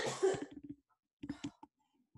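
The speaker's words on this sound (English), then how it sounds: "I think that cough is totally out of me." A person coughs hard a few times in a quiet room, then follows with softer, brief throat-clearing bursts separated by short silences.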